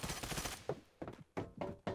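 Bursts of gunfire in the mobile shooter Escape from Tarkov Mobile: a few quick clusters of shots with short gaps between them, distant and faint, with no talk.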